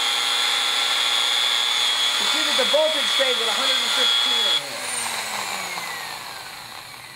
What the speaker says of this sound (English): I'm going to turn this drill on and listen to the difference.